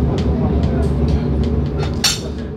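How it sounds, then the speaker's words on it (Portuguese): A train ride near the Sennheiser/Neumann facilities gives a steady low rumble and rattle of the carriage, with light clinks and a person talking over it. "Passear um pouquinho de trem."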